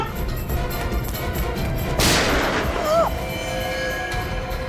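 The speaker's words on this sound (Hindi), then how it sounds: "बच्ची पे गोली चलाता है।" A single sharp blast rings out over a busy background rumble, followed by a brief high whistle-like tone.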